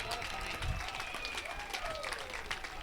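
Crowd applauding and cheering after an overhead smash at a professional pickleball match, a steady wash of clapping with voices mixed in, moderately distant.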